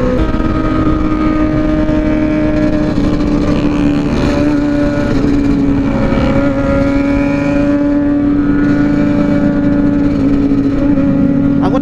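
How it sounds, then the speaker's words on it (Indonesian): A motorcycle engine drones steadily and loudly on a winding mountain road at Kelok Sembilan, with a constant tonal hum and slight shifts in pitch, close to the rider and with no talk. "Cuma suara motor dia nih yang ramai kali ini."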